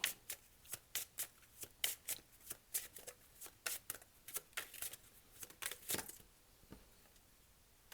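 Oracle cards shuffled for a tarot-style reading, a steady run of quick, crisp riffling bursts repeating about every half second, close and clear with no talking.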